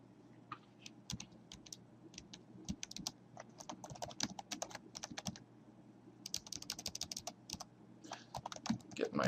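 Quiet, close bursts of typing on a computer keyboard at a terminal, irregular clusters of key clicks with short pauses between them.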